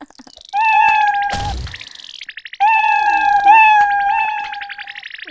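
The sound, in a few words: cat meowing in Roblox video game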